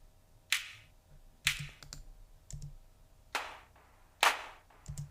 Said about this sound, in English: And then I've got a clap.